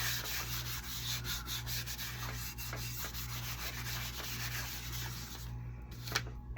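A cloth rubs back finish on a scrap-wood 2x4 crow, a continuous close scratchy swishing with rhythmic back-and-forth strokes over a low hum.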